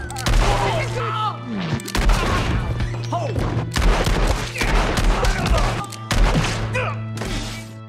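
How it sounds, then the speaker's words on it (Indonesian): A gunfight in the film Django Unchained: rapid, loud bursts of gunfire, heavy thuds and crashes come in quick clusters, mixed with shouting voices and a droning score underneath. "Terjadilah baku tembak antara Django dan anak buahnya Kelvin."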